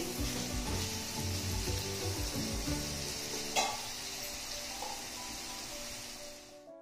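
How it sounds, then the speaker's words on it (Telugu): A capsicum and carrot curry bubbles and sizzles covered on a medium flame, a soft continuous hiss with a faint lid clink partway through, fading slightly near the end. "ఇప్పుడు కూర మగ్గుతూ ఉంది కదా"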